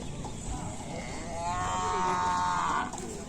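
A large cow bellows a long moo that rises and swells, then cuts off, over outdoor background noise with no speech in between.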